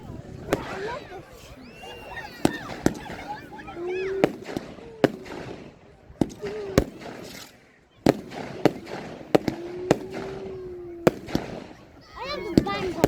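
Fireworks at the Oakington display in 2022 crack and thump in irregular bursts of sharp bangs, some loud and some farther off, while a crowd talks and exclaims throughout with whistling rockets in between.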